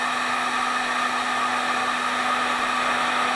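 A heat gun blows hot air onto plastic being bent into faux icicles, making a constant, loud whooshing hum with a steady tonal whine and no change in level.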